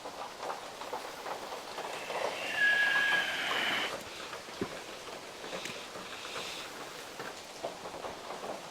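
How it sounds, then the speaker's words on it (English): Rain falls outside while heard from indoors, a soft, steady hiss of drops with a faint wash of noise that briefly swells, quiet and continuous with no voices. "I'm shooting indoors today because it's raining."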